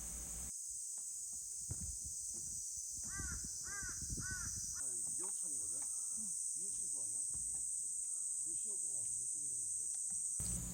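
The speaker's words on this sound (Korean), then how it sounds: "매미 소리를 들으면서 걷다 보니 힐링이 저절로 되는 것 같습니다" Cicadas drone along a wooden deck trekking path, a steady outdoor buzz with repeated rising and falling pulsed calls that grow busier midway, fairly distant and continuous.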